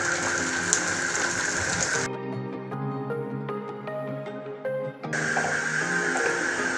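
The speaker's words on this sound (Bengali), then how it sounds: "একইভাবে আমি বাকি কোফতাগুলো ভেজে নিচ্ছি।" Cabbage kofta balls deep-fry in hot oil with a dense, rain-like sizzle. The sizzle drops out for a few seconds while music plays, then returns just as loud.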